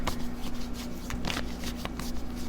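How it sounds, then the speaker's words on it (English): Tarot cards being shuffled by hand, a close run of soft papery riffles and slides with a few sharper snaps, steady throughout with no talk. "I'm working it out in my head right now as I'm shuffling for you."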